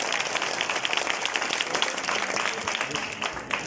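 An audience of young listeners at a motivational Youth Day talk claps on cue, bright and busy applause with sharp individual claps standing out, steady and fairly close throughout.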